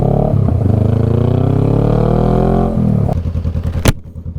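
Motorcycle engine running under a rider, a steady loud drone with rising pitch, then a shift into a choppy revving pulse near the end.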